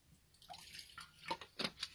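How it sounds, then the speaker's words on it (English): Water trickles and drips onto a smashbook page in a few small, close splashes, quiet and alone with no talking. "I'm going to add some water to my page"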